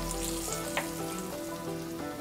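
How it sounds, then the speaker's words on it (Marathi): Slices of elephant foot yam shallow-fry in oil in a pan. The sizzle is steady and crackling, with faint pops and no voices. "मधून थोडंसं तेल सोडूया आपण, म्हणजे सुरणाची कापं सगळ्या बाजूने छान अशी शालो फ्राय होतील."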